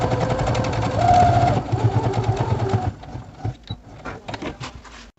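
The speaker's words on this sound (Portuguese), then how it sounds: "vou passar a costurinha aqui, ó, bem na beiradinha pra poder prender" An electric sewing machine stitches along the edge of a fabric placemat, with a close, steady motor whir for about three seconds, then it slows into uneven clicks and taps.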